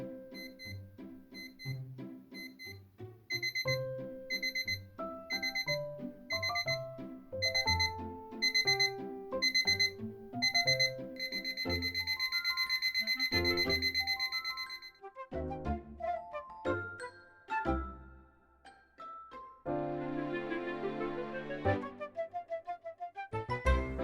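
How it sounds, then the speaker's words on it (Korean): Electronic alarm of an IKEA clock sounds up close in a quiet room, its beeping patterns shifting and accelerating as the tones grow louder and faster, with no one speaking. "이 시계는 알람 소리가 점점 커지고 빨라지는 기능이 있어요"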